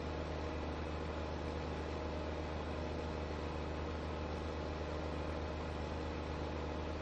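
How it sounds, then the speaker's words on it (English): Low, steady drone of a T7 tractor engine pulling a planter in Farming Simulator 15, humming continuously at a quiet, even level with no talk. "I'm not sure if we should use a little bigger tractor on this."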